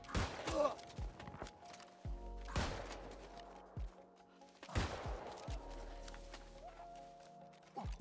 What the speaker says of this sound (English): Why is that turret facing that way and shooting me?